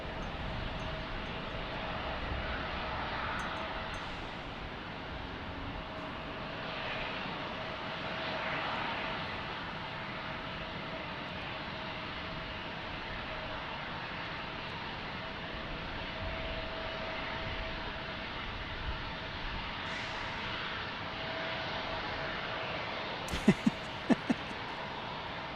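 A CRJ 200 regional jet at Salt Lake City airport gives off a steady, moderately distant engine roar and whine that holds for the whole stretch, with a few sharp clicks near the end.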